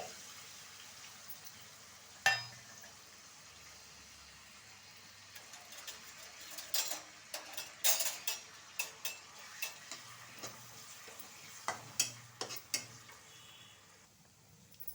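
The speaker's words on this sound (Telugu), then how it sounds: "ఉల్లిపాయ మసాలా బాగా వేగింది కదండి" Onion masala with a ground spice paste sizzles faintly in a pan while a spoon taps and scrapes at an uneven pace, soft and close.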